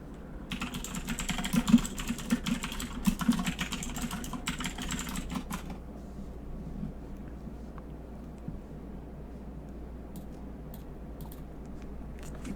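Typing on a mechanical computer keyboard, a dense clatter of key presses for the first few seconds, fairly close, then trailing into sparse taps over a low background hum.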